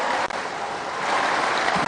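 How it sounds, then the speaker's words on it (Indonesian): Dense, steady audience applause on a live Indonesian evening television broadcast, broadband and fairly loud with little variation across its two seconds. "Tepuk tangan"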